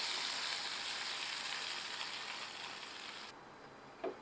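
Hot mustard seeds, broken dried red chillies and curry leaves tempered in oil give a steady, fairly loud sizzle as they are stirred into wild gooseberry rasam, the hiss cutting off abruptly near the end, followed by a single brief clink.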